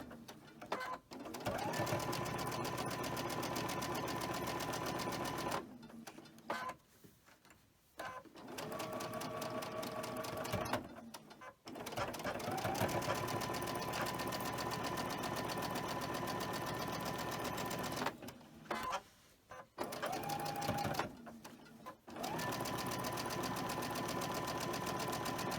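A sewing machine chain stitches pinned cotton quilt pieces, running in steady whirring bursts close by, with several short pauses between seams.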